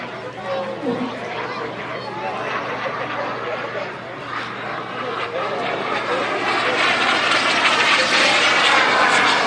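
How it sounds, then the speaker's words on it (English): Electric RC model jet airplane flying at a demonstration event, a loud continuous whooshing roar that grows steadily over the clip, with crowd chatter and talk in the background. "It is a special set of skills to fly these airplanes that can approach 200 miles per hour."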